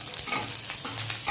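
Garlic hits hot oil in a pan with a brief, loud, close sizzle, mixed with stirring scrapes.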